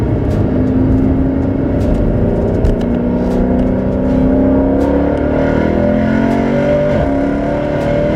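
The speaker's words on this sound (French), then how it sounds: "C'est vraiment le moteur qu'on entend qui est vraiment pur." A powerful Mercedes C63 V8 engine, 457 horsepower, hums and revs steadily up and down, loud and close, with a continuous throaty roar and no talking.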